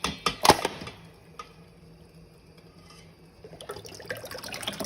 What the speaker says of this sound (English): you're going to put the top side down into the cold water